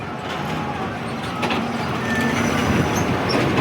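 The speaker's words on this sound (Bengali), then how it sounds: "শিয়ালদা কাঞ্চনজঙ্ঘা এক্সপ্রেস যাচ্ছে," The Sealdah-bound Kanchenjunga Express crossing the Farakka bridge, heard as a steady, close rumble of rolling railway cars and wheels that grows slightly louder toward the end.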